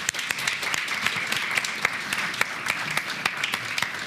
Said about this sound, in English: round of applause for her as well.